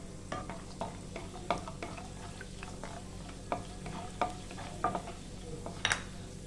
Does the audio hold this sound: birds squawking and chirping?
no